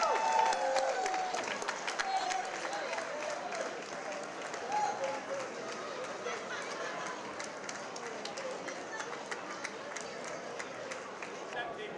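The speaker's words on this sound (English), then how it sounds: "So let's give a round of applause for Unger George Arjayan." Applause from a crowd at an AYF Olympics alumni night as an award recipient is honored, steady clapping filling the room for several seconds with a few voices mixed in.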